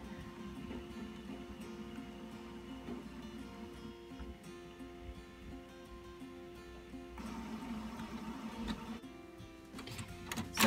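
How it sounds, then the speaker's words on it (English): A Canon MX922 inkjet printer printing an edible image gives off a steady, low mechanical whir, with a few sharper clicks near the end. "As you can see, it is printing out my image."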